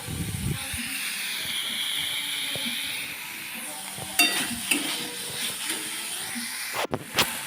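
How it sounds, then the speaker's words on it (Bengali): Boiled mixed vegetables frying and being sautéed in a pan, giving a continuous sizzling hiss with occasional stirring scrapes and clatters. "শুধু হালকা একটু ভেজে নিয়ে তারপর একটু কষিয়ে নিয়ে"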